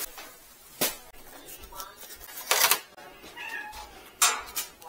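A cat meows several times, short, fairly soft calls spaced a second or two apart, close by in an otherwise quiet room.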